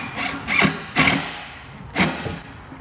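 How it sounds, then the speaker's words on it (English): A power drill drives screws into a wooden scooter wheel chock being built for Vespa maintenance, giving three short whirring bursts with pauses between them, close and fairly loud. "let's shoot a couple screws into it."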